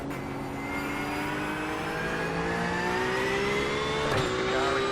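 A GT3 race car in iRacing, its engine drone steady with a rising pitch as it draws nearer and grows louder, then a quick gear shift near the end, with no talking.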